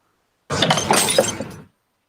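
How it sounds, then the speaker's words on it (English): A glass knocked over shatters on a table in one sharp, close crash with scattering shards, lasting about a second amid silence. "Beverly turns on the light, accidentally knocking over the glass. The glass breaks on the table."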